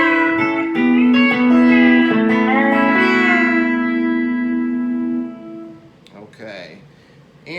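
B-bender guitar playing a short passage, bright sustained notes with pitch bends rising and sliding, ringing with reverb before fading, followed by a quieter tail and faint light noises.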